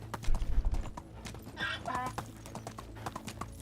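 Horse hooves clip-clop in a quick rhythmic gait in the Medieval Dynasty video game, close and steady, with a voice talking over them.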